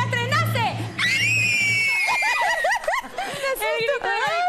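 A studio group in an Argentine television show bursts into a loud, sustained shrieking victory cheer, several voices screaming together and then breaking into excited chatter and laughter.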